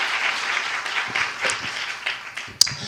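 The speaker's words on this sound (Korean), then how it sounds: "우리 주님께 영광의 박수 드리겠습니다" A congregation in a church applauds, a lively burst of many hands clapping that fills the room and gradually thins out, with a sharp knock near the end.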